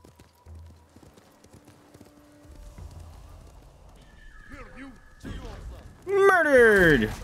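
Video game horse hooves clip-clop rhythmically under quiet background sounds in Ghost of Tsushima, then a horse lets out a loud, shrill whinny near the end.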